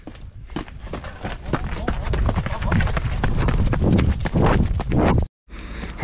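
A person sprints over ground outdoors while chasing a stolen motorcycle, producing quick, steady footfalls close to the microphone with wind buffeting and heavy breathing, broken by a brief dropout near the end.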